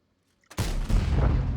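Artillery fire in World of Tanks, a single loud deep boom bursting in abruptly after near silence and rumbling on to the end without decaying.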